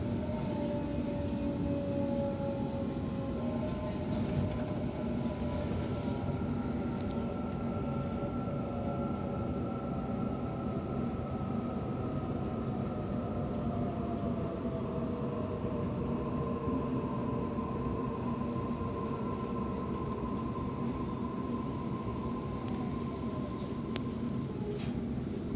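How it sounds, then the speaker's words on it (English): Sydney T1 Western Line commuter train arriving at Westmead station platform 3, a steady rumbling roll with rising and falling squeals of wheels and brakes, heard from inside the carriage and continuing unbroken. "train's arriving to Westmead platform"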